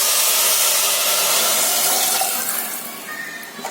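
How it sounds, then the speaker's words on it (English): Water pours into a pot of rice for ghee rice with a loud, steady, close rushing splash that gradually thins and softens toward the end. "Now I add in the water."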